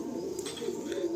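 A pigeon at a Nepalgunge pigeon sale gives a short, soft, continuous low coo, close and alone with faint room noise.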